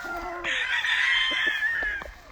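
A young rooster lets out one long, strained crow lasting nearly two seconds close by, over low background farm noise, with no talking.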